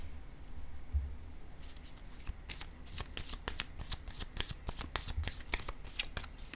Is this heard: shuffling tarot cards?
yes